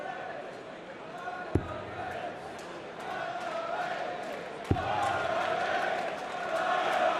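A darts crowd at the 2017 Champions League of Darts semi-final cheers and chants in a rising, rhythmic roar, with two sharp thuds standing out and a commentator talking over it.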